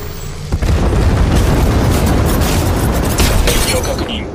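A loud, close grenade blast booms in the video game Apex Legends Mobile, a sudden heavy burst that rolls on as a thick rumble for several seconds, with faint game voices underneath.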